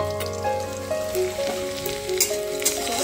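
Garlic and cumin frying in hot oil give a steady, dense sizzle and crackle, close up and continuous, with no talking over it.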